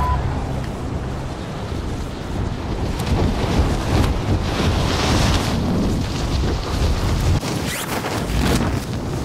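Splashing, sloshing water from a character swimming in Call of Duty Warzone, a steady wash of watery noise with a windy rush that swells in the middle and holds on to the end.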